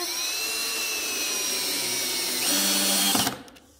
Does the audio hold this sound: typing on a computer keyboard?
no